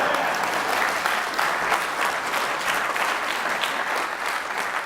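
Audience clapping during a motivational workshop speech, a dense, sustained round of applause filling the room at an even loudness, with no talking over it.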